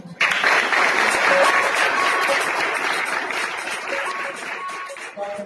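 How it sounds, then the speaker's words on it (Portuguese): Applause breaks out at an engagement ceremony in a church setting, a sustained, close round of clapping from a crowd that starts abruptly and slowly tapers over several seconds. "Pode aplaudir."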